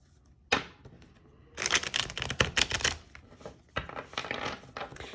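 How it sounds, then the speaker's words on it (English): Tarot cards being shuffled produce crisp riffling bursts separated by brief quiet gaps, close and fairly soft with no talk. "we're going to do one more shuffle"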